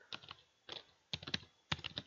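Quick bursts of typing on a computer keyboard, four short clusters of clicking keystrokes separated by brief pauses, quiet and close with nothing else audible.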